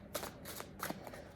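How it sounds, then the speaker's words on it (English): A tarot deck is shuffled in several quick riffling bursts, crisp papery flutters repeating at close range against a quiet background. "So let's shuffle the deck."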